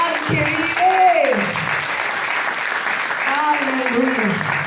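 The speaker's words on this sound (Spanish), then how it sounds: "Dale fuerte el aplauso al que vive" Church congregation applauds in a continuous wash of clapping while a voice talks or sings over it.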